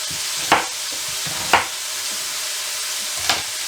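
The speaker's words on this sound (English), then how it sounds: "I'm going to add this to the pot while the sausage is cooking in." Pieces of white onion hit a pot where Johnsonville sausage is cooking, setting off a steady loud sizzle with a few sharp crackling bursts as the pieces land and are stirred.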